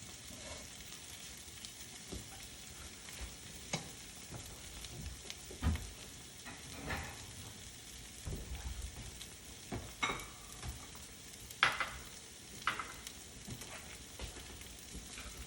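Eggs frying in butter in a pan, a steady crackling sizzle with scattered pops and occasional utensil scrapes, fairly close and without talk.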